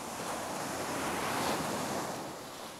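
Wind blows over the sea while a Tiwal 3 inflatable sailboat is being rigged, a broad steady rushing noise with surf-like swells that rise and ease, faint and with no voices.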